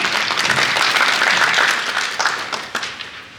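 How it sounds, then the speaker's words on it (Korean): Applause at a small-business support briefing fills the room as a crowd welcomes the next presenter, loud at first and then thinning out and fading toward the end, with no talk over it. "큰 박수 부탁드리겠습니다"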